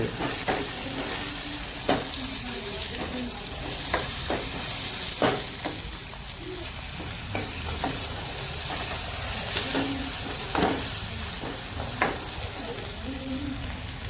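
Onions fry in a thin steel kadai for a gravy, giving a steady close sizzle with repeated sharp scraping clicks of a spoon against the metal, spaced irregularly, with no talking.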